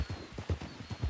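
Horse hooves clopping along a road in the video game Red Dead Redemption II, a quick steady rhythm of close, clear thuds at a walking or trotting pace, with no talk over it.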